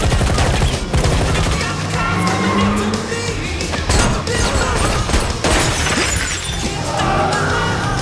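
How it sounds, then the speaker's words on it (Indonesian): Rapid bursts of gunfire crack repeatedly amid shattering and crashing impacts, loud and chaotic, with shouting voices mixed into the fight. "baku tembak dan perkelahian sengit pun berlangsung"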